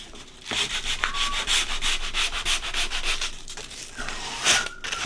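A weathered beaded frame is scratched up with steady, rhythmic rasping strokes, a close, gritty back-and-forth sanding scrape that keeps going with slight pauses and no voices.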